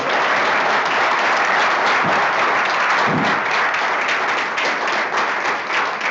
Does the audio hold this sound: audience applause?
yes